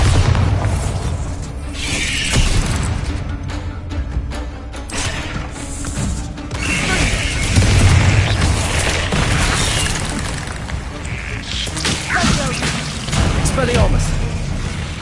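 Bombarda spell blasts in Hogwarts Legacy, repeated booming explosions over continuous combat noise and spell effects, with a voice calling out spell names throughout a busy fight.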